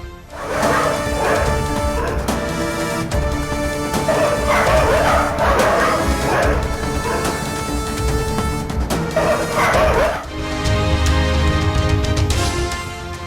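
Several street dogs barking loudly and repeatedly while chasing a boy in the street, with yips and a burst of clattering noise, close and chaotic.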